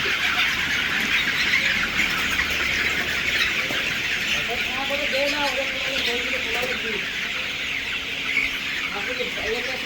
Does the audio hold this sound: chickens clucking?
yes